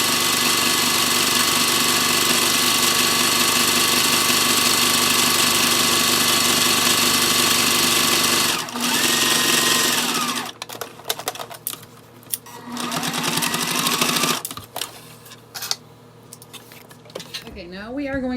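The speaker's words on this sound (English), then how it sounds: "Now I'm going to sew my straps" A sewing machine stitches bag straps, a steady mechanical whir running continuously at first, then breaking into short stop-start bursts of stitching with pauses between.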